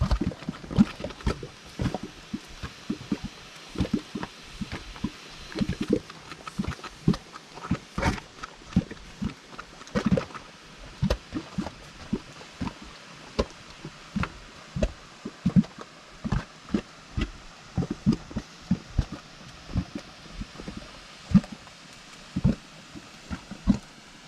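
Bubbling mud pots at Artists Paintpot in Yellowstone National Park, thick mud popping and gurgling in irregular low blurps and plops, close and continuous over faint wind.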